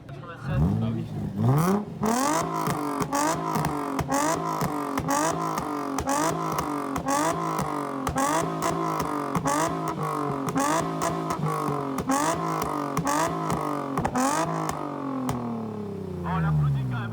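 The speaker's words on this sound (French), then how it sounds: "Ah, ça fait du bruit quand même, ces caisses." Car engines revving hard at a car show in France, including a 3.5-litre V6, with repeated loud close throttle blips and rising revs, while people chat in French over the noise.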